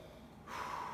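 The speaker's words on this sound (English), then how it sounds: "Let's give it a sniff and check the aroma." A short, close nasal sniff over a glass of IPA beer, a quick breathy intake starting halfway through after near silence.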